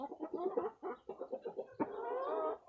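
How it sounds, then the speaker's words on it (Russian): A hand-tame chicken, newly bought at a fair in Kropotkin, clucks close by in a quick series of short calls, ending in a longer, drawn-out cackle. "А вот курица, смотрите."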